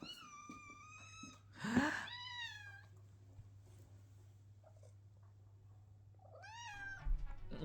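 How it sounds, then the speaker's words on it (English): A cat gives a loud, rising meow near the start, then a second drawn-out meow near the end. Both are close, over a steady low indoor hum, with quiet gaps between them. "a cat shouting through my fucking recording"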